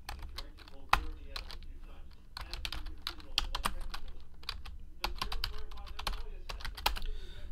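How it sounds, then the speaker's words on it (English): Rapid keystrokes clatter on a computer keyboard as baseball card hits from a 2017 Leaf Metal Draft break are entered, steady uneven bursts of clicks with a few louder taps, close and alone without talk. "So let's type in all these hits."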